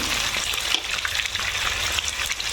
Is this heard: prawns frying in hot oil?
yes